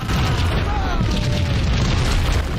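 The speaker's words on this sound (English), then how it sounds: "That's like 10 explosions" Heavy booming explosions rumble almost continuously, loud and close, during a gunfight in the Max Payne video game, with a helicopter nearby and deep blasts overlapping one another.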